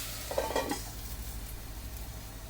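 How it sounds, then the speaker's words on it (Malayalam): Sprouted beans and onions stirred in a pan, a few soft spatula scrapes and clinks early on over a faint low sizzle that settles into quiet cooking. "അടി പിടിക്കാതെ നമുക്കിതൊന്ന് ഇളക്കി കൊടുക്കാം"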